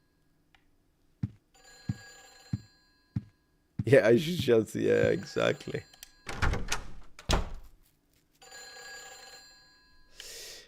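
Telephone ringing inside the video game Silent Hill 3, a series of short evenly spaced rings that sound alone at first, then return later with people talking in between and over them.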